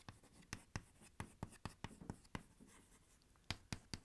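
Pen writing an accounting entry by hand, rapid crisp strokes and taps in an uneven rhythm, close and fairly quiet, with no voice over it.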